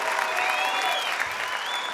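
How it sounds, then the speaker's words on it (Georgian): A studio audience at a Georgian league quarter-final show gives loud, thick applause for the children, with faint whistles and cheers rising over the steady clapping. "მოდი კიდევ ერთხელ ტრადიციულად აბა მქუხარი აპლოდისმენტები ბავშვებს."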